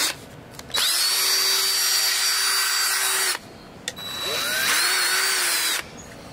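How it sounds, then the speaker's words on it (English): A cordless electric drill fitted with an auger bit bores into wood in two long bursts, each a loud close whine with a rising start and sudden stop, separated by a brief pause. "I'm able to install my auger bit, and it works really, really well."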